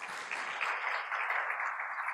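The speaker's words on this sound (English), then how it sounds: "Please, a big round of applause to them." A conference audience applauds partner companies at a 2018 business summit in Oman, a steady, dense clapping from many hands that fills the room evenly from start to finish, with no voices above it.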